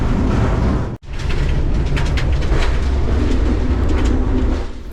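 Near-century-old Malaxa railcar rattling along poor-quality track in Romania, a loud continuous clatter and rumble from inside the cabin, broken by one brief dropout.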